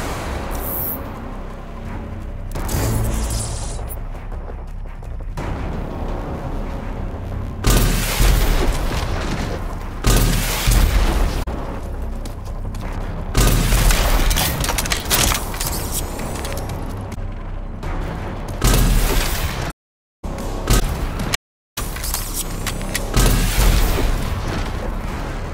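Rocket blasts from a smart rocket launcher in RAGE 2 fire nanotrite-propelled homing rockets, booming explosions with heavy low rumble repeating through a loud, dense battle soundscape, with two brief dropouts near the end.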